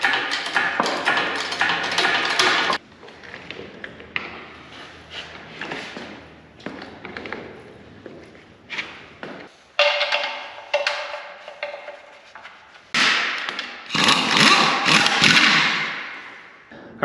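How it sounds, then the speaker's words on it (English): Heavy diesel engine and transmission being bolted together in a workshop for a 1930 custom pickup: scattered metallic taps, clinks and thuds, with bursts of tool noise and quiet gaps between them. "next we're going to bolt the transmission to the engine"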